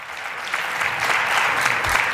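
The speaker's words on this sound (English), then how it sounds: "Let's give him another round of applause" An audience at a CUNY Citizenship Now event gives Bob a round of applause, a dense, sustained wash of many hands clapping at steady loudness throughout.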